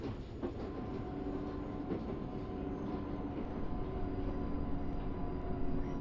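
A London Underground Northern Line train in the OpenBVE simulator, running between Kennington and High Barnet: a steady, even rumble of wheels and motors with a faint whine, constant throughout, with no voices.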